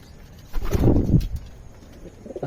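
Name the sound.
pigeons cooing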